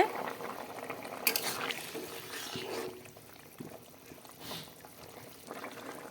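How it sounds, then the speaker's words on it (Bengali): Potato and papaya curry boiling in a pot, with soft, continuous bubbling and occasional sharper pops and clinks close by, fading a little toward the end. "এক মিনিট পরে দেখো তরকারিতে জাল উঠে গেছে"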